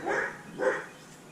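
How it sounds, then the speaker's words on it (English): A dog barks twice in quick succession, a bit distant and moderately loud, followed by quiet. "that's my dog Lucy."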